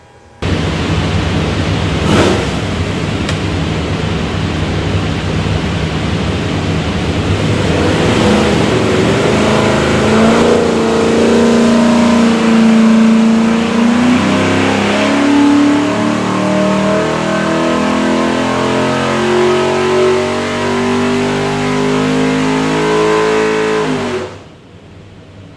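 A 563 hp stack-injected 427 Windsor V8 with a front-sump oil pan roars loud and close on a dyno, climbing steadily in pitch through a long pull before cutting off abruptly.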